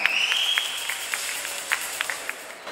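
An audience applauds to welcome the director of the film Kolla onto the stage at a trailer launch event, with steady clapping and a few sharper claps that fade toward the end.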